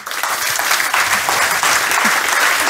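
An audience on a talk-show stage breaks into loud, sustained applause to welcome biathlete Laura Dahlmeier, dense clapping from a large crowd filling the room throughout.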